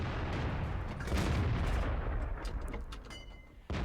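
KV-5 heavy tank gun firing in World of Tanks, a loud, heavy boom with a rolling, rumbling tail that fades over a few seconds, followed by a brief sharp hit at the very end.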